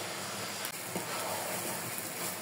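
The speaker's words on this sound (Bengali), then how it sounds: "ভাজা ভাজা করে নেব।" Fish roe frying in a pan with ginger and bay leaves, giving a steady close sizzle with faint stirring scrapes, alone without talk.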